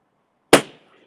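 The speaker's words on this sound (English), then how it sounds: "That was a balloon popping" A single sharp balloon pop bursts out of near silence, loud and close, with a short decaying tail and nothing else around it.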